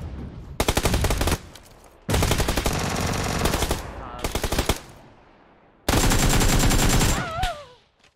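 Loud, rapid bursts of shotgun fire in PUBG in three long volleys with brief gaps, ending in a whirring, warbling tail as the last burst fades.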